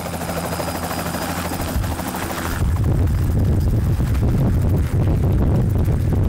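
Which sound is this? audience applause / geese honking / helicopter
helicopter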